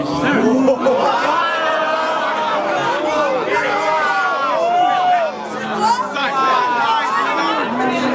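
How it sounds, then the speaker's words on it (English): A rap battle crowd erupts in a dense wash of overlapping voices, shouts and laughter, loud and continuous throughout with a brief dip midway before the noise swells again. "You hear that crowd response?"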